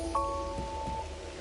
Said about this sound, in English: The flips and flops of raindrops are so nice to fall asleep to.